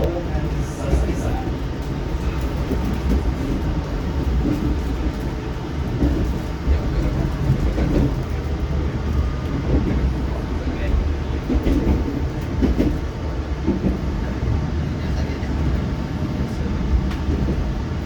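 Papandayan train heading into the Sasaksaat tunnel in Indonesia: a steady, loud low rumble of the rail carriage heard from inside, with faint wheel clatter over the rails and no break in the drone.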